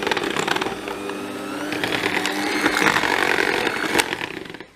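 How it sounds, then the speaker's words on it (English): Chocolate cake batter is whisked in a bowl, producing a continuous close whirring and rattling that swells slightly before easing off at the end. "To make sure everything is mixed evenly, and whisk it a little bit more"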